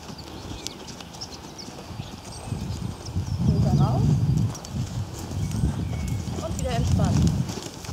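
A horse trotting on the lunge: rhythmic hoofbeats on soft ground, near and steady, with a trainer speaking over them.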